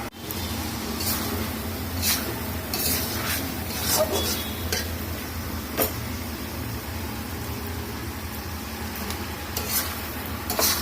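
Potatoes and dried lotia fish in a curry with tomato, cooking in a pot, a continuous bubbling sizzle under repeated clinks and scrapes of a spoon on metal, fairly close and steady throughout.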